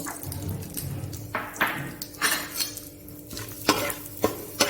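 Whole bay leaves, cracked cardamom pods, cinnamon and cloves fry gently in ghee, a soft close sizzle broken by a few sharp clinks and scrapes of a utensil against the pan.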